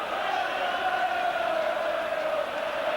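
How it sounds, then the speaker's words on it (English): Football crowd at a 1982 FA Cup match between Sunderland and Liverpool, a steady loud roar of cheering and chanting that fills the whole stretch without letting up, with no commentary over it. "And the crowd seems to have responded to that as well."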